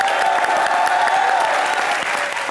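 Studio audience at a Comedy Nights Bachao taping applauds in a dense, sustained wash of clapping, loud and steady throughout with a faint tonal hum underneath.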